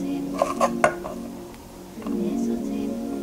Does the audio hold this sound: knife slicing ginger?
yes